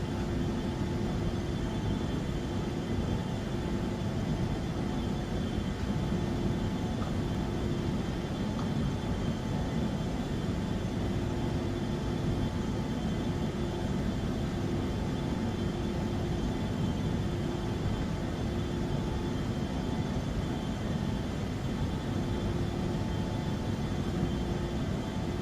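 An Embraer E145 jet climbs out in the X-Plane 11 flight simulator, heard as a steady, unbroken cockpit roar of engine and airflow with a faint constant whine, no voices.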